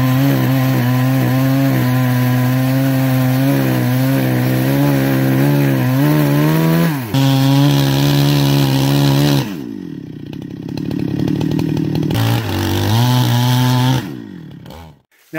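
A chainsaw bores into a compromised tree trunk during felling, its loud engine holding steady, bogging and dipping as it cuts, then revving and briefly falling away before cutting in again, with no talk.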